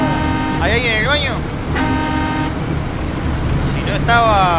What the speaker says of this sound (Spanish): Le pasó semejante camión al lado y le tocó bocina.